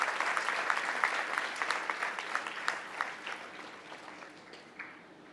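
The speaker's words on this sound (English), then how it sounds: "Another round of applause," Audience applause following a president's speech at a community event, dense clapping that gradually thins and fades toward the end.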